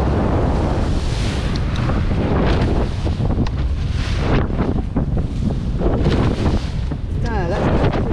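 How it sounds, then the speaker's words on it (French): Strong wind buffets the microphone at sea on a fishing trip, roaring and gusting over rushing water, with voices faintly audible beneath it. "Le lendemain, il y a encore plus de vent."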